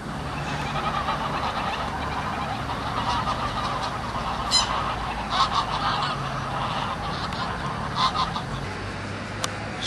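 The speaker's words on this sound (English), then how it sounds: "I'm spending the day with the geese." A flock of geese in Turkey's Cappadocia honks continually, a dense chorus of overlapping calls with a few louder, closer honks standing out over the general clamour.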